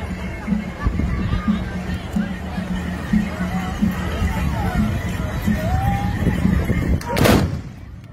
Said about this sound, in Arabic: طلقة جميلة